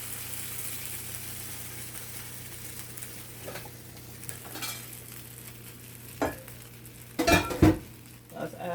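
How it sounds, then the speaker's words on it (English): Homemade beef broth gravy for poutine stirred in a pot, a steady soft scraping swirl over a low hum, with a few sharper clinks of the utensil against the pot near the end. "I have to do a lot of stirring to get this gravy right"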